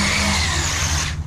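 ZD Racing EX07 Hoonigan 6S RC drift car driven on pavement, its electric motor giving a loud, steady high whine that cuts off abruptly at the end.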